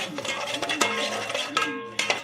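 A spoon scrapes and clinks against a pot while tomato kuzhambu is stirred, with several sharp metallic taps standing out over a steady background hum, close and fairly loud.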